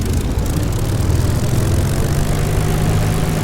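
Supermarine Spitfire piston engine in DCS World held at about 1200 RPM during a cold start on the parking area, a loud steady low-pitched drone with a throbbing propeller beat and no voices.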